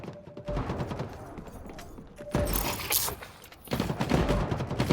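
Gunfire in the video game The Cycle Frontier, loud, close, rapid volleys that come in repeated bursts and keep going almost without a break.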